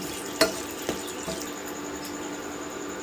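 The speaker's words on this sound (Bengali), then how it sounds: "তেজপাতা মুখ ফাটি একটা এলাচ একটা দারচিনি দিয়ে দু মিনিট ফোড়নটাকে আমি ভেজে নেব" Bay leaf, cardamom and cinnamon tempering fry in hot oil, giving a soft continuous sizzle with a few sharp ladle taps, close and fairly quiet, no voices.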